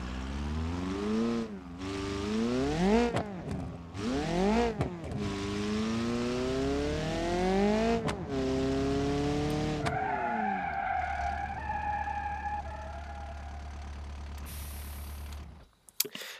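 A car in the BeamNG.Drive driving game revs up through several gears with rising engine whine, then its tires squeal in a sustained skid before it comes to rest, loud and close with no talking.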